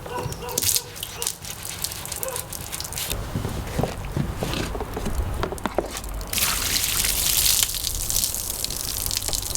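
A filthy angle lamp washed in hot soapy water: sloshing, dripping and gushing water with squelchy handling and scrubbing, growing louder and more splashy toward the end.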